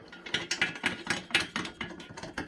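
Screws being ratcheted tight on the legs of a Glide Gear OH100 adjustable overhead camera platform, a close series of rhythmic clicking bursts, about nine in quick succession, with no talking.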